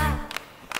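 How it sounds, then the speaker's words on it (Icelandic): Two sharp claps, spaced about half a second apart, follow a fading children's sing-along song in Icelandic, as children clap along to the music. "Ef þú getur ekki sungið reyndu þá að klappa."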